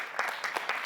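Brief burst of audience applause following a city tech challenge pitch, a quick run of overlapping claps at moderate level.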